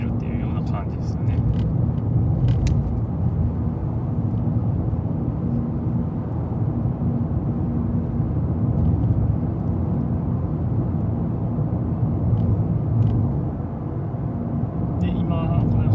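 Steady low engine drone and road rumble inside a Mazda2 cruising on light throttle, continuous and fairly loud throughout with a faint tick or two, no voices heard.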